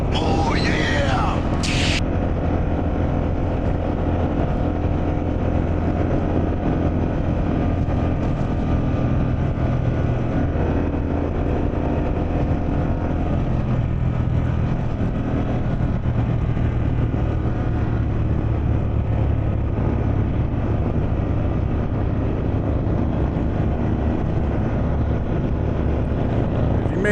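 A Harley-Davidson Pan America motorcycle fitted with a Vance & Hines exhaust roars loudly and steadily while riding, its deep engine rumble mixed with heavy wind buffeting throughout.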